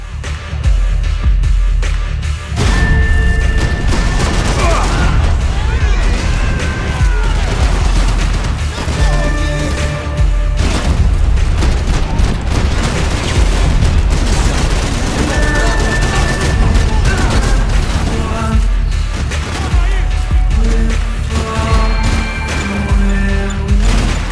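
Grenade blasts and heavy gunfire in the Max Payne 3 video game, with loud booms and crashes over dense game noise and music tones, continuing throughout.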